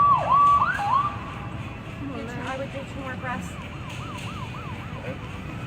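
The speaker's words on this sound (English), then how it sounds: "Here come the ambulance." An ambulance siren wails in a rising and falling pattern at a distance, gradually approaching, with people talking over it in a tense outdoor scene.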